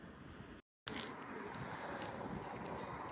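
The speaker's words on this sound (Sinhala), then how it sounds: "ගස්වල මේ හුළඟට හෙලවෙන සද්දේ" Wind moves through tree leaves on a cold-season day in Korea, a faint, steady rustling hiss that cuts out briefly near the start and then resumes evenly.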